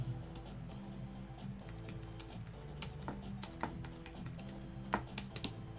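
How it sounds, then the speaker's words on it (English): Steady typing on a computer keyboard, quick irregular key clicks with a few sharper louder strikes, heard up close over a low background hum. "Jolty keyboard."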